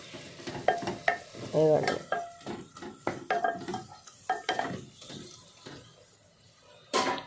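Ivy gourd (tindora) frying in a pan for a Telugu onion-chili dish, sizzling steadily while a utensil scrapes and stirs it in repeated strokes, with brief clatters against the pan and a few short spoken words.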